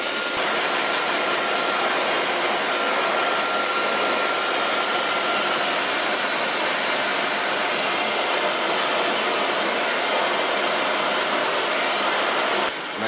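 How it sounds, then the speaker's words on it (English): Blow dryer drying a short pixie haircut, a steady loud whooshing roar running unbroken from start to finish. "And I'm gonna blow dry it."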